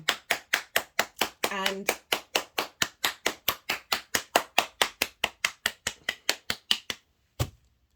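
A single pair of hands claps in a steady, evenly spaced rhythm, close and distinct, with a brief spoken moment early on, before the claps stop and one last clap lands after a short pause.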